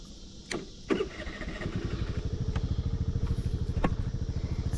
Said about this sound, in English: Kickstand up, and then starting.